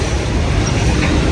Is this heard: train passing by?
yes